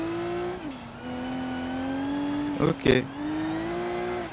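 A car drifting around a circuit in the BeamNG driving game, with a steady engine drone that shifts pitch as it revs and a few brief bumps or thuds. A voice speaks briefly over it.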